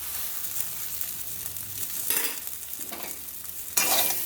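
Hulled black sesame seeds hit a hot frying pan, giving a steady bright sizzle that surges twice as more seeds land, with light stirring scrapes throughout and no talking.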